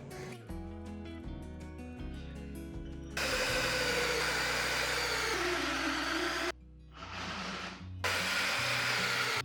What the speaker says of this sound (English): now I'm gonna take it over to the other end and drill the holes over there